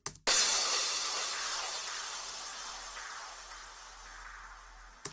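Two layered crash cymbals hit at the drop of an electronic track, a bright broadband wash that strikes loudly and decays slowly over about five seconds, with a second hit right at the end.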